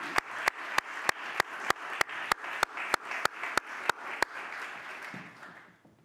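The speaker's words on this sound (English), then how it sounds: "Would you join me in applauding these celebrations?" A Unitarian Universalist congregation at a Sunday service applauds, with one set of sharp, evenly spaced claps standing out close by over softer group clapping that tapers off and fades near the end.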